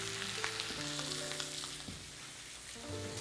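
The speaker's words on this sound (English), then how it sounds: "So we're going to flip it over. On the fatty side, and we'll get a nice sear down there." Fatty beef searing in a hot pan makes a continuous crackling sizzle with light popping, steady and close, while a low hum runs underneath.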